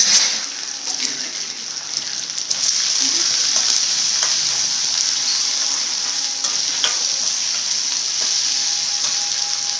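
Onions, mint and curry leaves sauté in a hot pan with a steady bright sizzle, brief stirring scrapes and taps breaking through, the frying growing slightly louder a few seconds in and continuing evenly.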